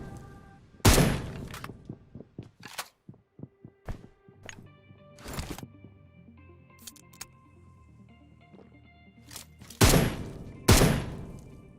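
Gunfire in the mobile battle royale PUBG Mobile: sharp, loud shots crack out in scattered bursts, two heavy blasts near the start and two near the end, with quicker lighter pops in between.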